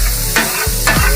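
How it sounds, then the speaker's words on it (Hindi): Kata kat frying in a karahi with karahi masala, loud close sizzling under a low hum, cut by two quick metal scraping strokes of the stirring spatula, no voices. "अभी फिर भूनेंगे आप"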